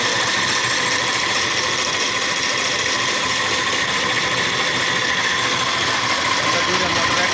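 A motor spins freely without load during a controller load test, giving a steady, dense mechanical whir with a ratcheting, gear-like rattle that holds constant throughout.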